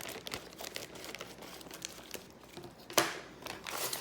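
Plastic packaging around jewelry-making supplies being cut open, heard as close, quiet crinkling and rustling with one sharper snip or crackle near the end.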